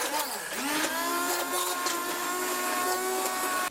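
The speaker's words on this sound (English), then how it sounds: "Now I'm just going to use my immersion blender to smooth this out a bit." An immersion blender whirs steadily through pumpkin enchilada sauce, a continuous motor drone with a bright whine that holds nearly unchanged for several seconds at close range.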